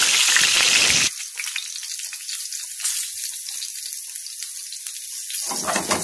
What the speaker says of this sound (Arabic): شرايح الباذنجان هننزلها